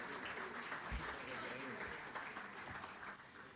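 Moderate applause from an audience at a conference on sustainability and public policy as a speaker takes the podium, a brief, fairly faint spell of clapping with voices mixed in.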